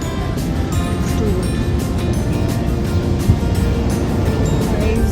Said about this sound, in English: Listen to the waves sound.